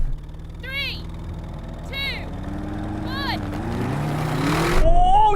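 An Audi RS7 accelerates hard in a drag race against a BMW M8 and a Mercedes-AMG GT 63 S. A close, steady engine roar climbs in pitch toward the end, with intermittent short chirping sounds over it.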